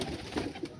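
A malwai pigeon coos softly in a brief, low murmur close by, with a faint second coo near the end.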